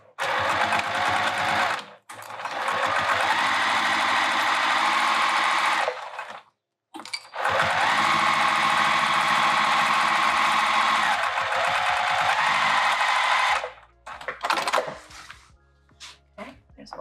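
A sewing machine runs in long steady bursts stitching down the edge of a vinyl handbag held with clips, with brief pauses between runs; loud and close, with little or no talk.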